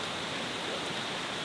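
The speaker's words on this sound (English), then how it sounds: "it is chucking with rain" Heavy rain drumming on a camping tarp, a dense, constant hiss of drops with no talking.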